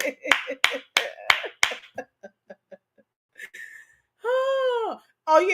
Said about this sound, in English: Everybody clap for Lionel